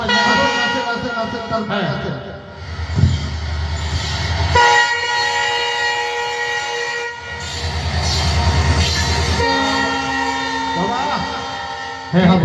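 A passenger train at a station platform rumbles and sounds its horn in several long blasts. People talk nearby over the steady rail noise.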